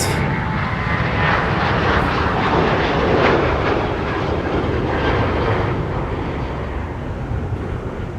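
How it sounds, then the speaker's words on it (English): American Airlines Boeing 737-800 jet departing Minneapolis–St. Paul airport, a loud broad roar of engines that swells and then slowly fades as the aircraft climbs away, with no talk over it. "Here's American. 737-800 on its way to Charlotte."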